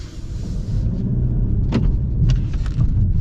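2026 Ford Maverick Hybrid AWD pickup pulling away under acceleration, a steady low engine and road drone from inside the cab with a few faint clicks and rattles over it.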